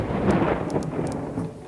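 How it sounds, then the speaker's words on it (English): Steady rain hisses in WorldBox, the pixel world-building game, a dense broadband wash with a few faint high ticks of drops, continuous and fairly close, with no speech. "We even got some rain falling. And I do believe that you guys should be able to actually hear the rain now."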